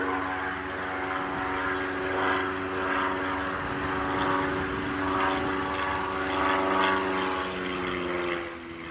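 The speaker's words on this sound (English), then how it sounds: "Many planes are flying, helicopters," Propeller planes and helicopters fly overhead near an erupting volcano, a loud steady droning hum with a rhythmic throbbing pulse that swells and fades slightly, no voices.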